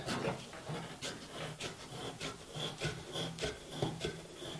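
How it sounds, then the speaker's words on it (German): Wood scrapes and rubs in a run of short, rhythmic strokes as a piece of wood is fitted and fastened with a clamp at a workbench. The sounds are close and fairly quiet, and no one speaks. "Jetzt spannen wir hier ein Holz dran. Machen das mit der Zwinge fest."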